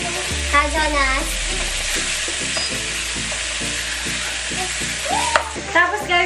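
Garlic and chicken sizzle and fry steadily in a pan for Filipino adobo, a continuous hiss with occasional stirring, while a voice talks over the cooking throughout.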